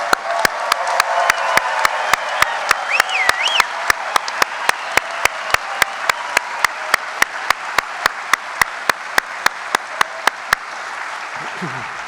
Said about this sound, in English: one last ear-splitting round of applause for our white-coated students